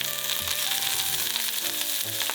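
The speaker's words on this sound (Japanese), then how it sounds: "強火で剥いたエビの殻を炒めていきます" Peeled shrimp shells fry in olive oil in a pot over high heat, making a loud, constant sizzle and crackle throughout with no talking.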